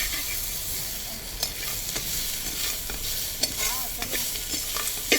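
Chutney ingredients such as green mango, bottle gourd and turkey berry fry in a pan with a close, steady hiss and sizzle, broken by occasional sharp scrapes and clicks of stirring.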